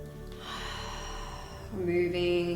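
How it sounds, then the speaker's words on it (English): Slow, deep breathing in and out during a guided somatic relaxation exercise, soft and close, a long drawn breath followed by a fuller exhale, with no talking. "3 deep breaths in and out."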